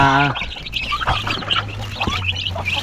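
A mother hen with a brood of chicks, some of them adopted. A loud cluck or honk opens, then chicks give a scatter of thin, high peeps over a low hum of the yard.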